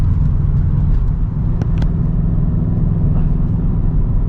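A car engine hums steadily from inside the cabin while driving through city streets, a low continuous rumble with a couple of faint brief clicks.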